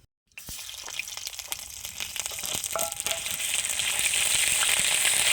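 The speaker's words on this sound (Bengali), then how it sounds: "আদাটা একটু তেলে ভেজে নেব" Ginger paste frying in hot oil spiced with whole garam masala and cracked cardamom, while cooking a banana-flower dish: a steady hiss that starts abruptly after a brief silence and grows gradually louder and denser, close and alone.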